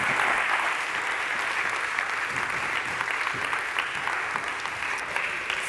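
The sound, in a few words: audience applause for speaker Romain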